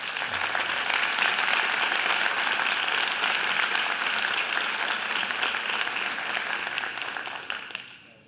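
Audience applause fills a panel hall, a thick continuous wash of many hands clapping at steady loudness for several seconds before fading out abruptly at the end, with no voices over it.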